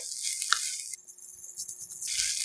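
Radish kimchi fried rice stirred and frying in a pan, a steady hiss of sizzling with brief scraping stirs, close and moderately loud, with no talking.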